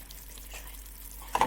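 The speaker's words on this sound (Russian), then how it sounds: "Леденцы должны вариться около 5 минут на маленьком огне." Linden and plantain candy syrup simmers on low heat, a soft, steady bubbling sizzle that stays faint, with a brief louder stir or splash near the end.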